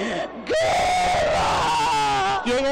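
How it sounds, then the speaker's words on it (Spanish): During a deliverance prayer at a Pentecostal church service, a person lets out a loud, sustained scream that rises into a long, wavering wail, close and dominant for nearly the whole moment. "¿Por qué grita?"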